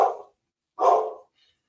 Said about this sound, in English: he's barking in the front yard and just going bananas